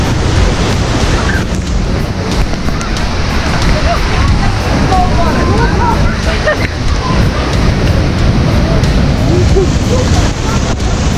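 Spray from Bridalveil Fall in Yosemite, a loud, dense, continuous roar of falling water and mist mixed with wind buffeting the microphone, steady throughout.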